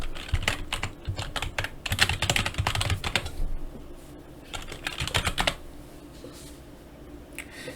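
Rapid keystrokes clatter on a computer keyboard in bursts, with short pauses between runs of typing, close and fairly quiet.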